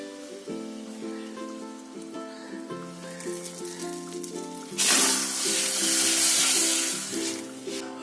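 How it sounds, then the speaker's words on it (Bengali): Hot tadka with Kashmiri chili poured over cooked masoor dal sets off a sudden loud hissing sizzle about halfway through, first rising over a background music bed and then easing off. "উপর থেকে এই তরকাটা আমি ঢেলে দিলাম"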